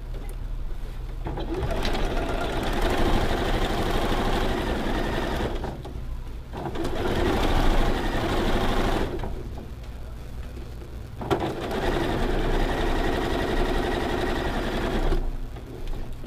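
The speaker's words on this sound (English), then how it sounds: "stitching that last seam" A sewing machine runs in long continuous bursts while stitching the final seam of a star-patterned quilt, with three sustained stretches of loud, steady motor whir broken by short pauses.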